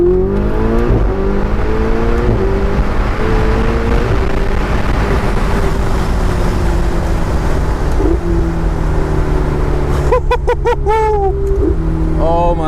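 A rented Ferrari's engine drones loud and close with shifting pitch, gear tones rising and falling, then sharp revving bursts near the end.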